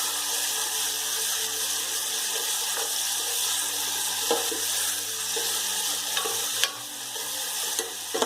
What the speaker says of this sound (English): Put in the onions and we'll have to saute it till it's golden brown